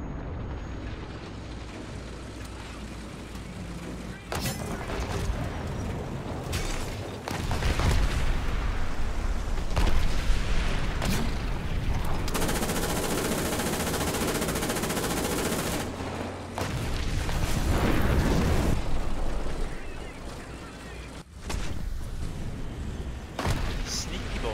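Artillery fire in War Thunder: heavy booming blasts and crackling gunfire come in dense bursts, loud and close, with sustained rumbling stretches and sharp individual impacts across the scene.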